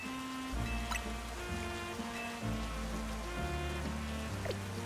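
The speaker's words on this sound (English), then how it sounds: "This looks very daytime, but it's just raining, right?" Rain falls in a Pokemon video game as a steady, even hiss that runs throughout, layered under looping game music with sustained tones.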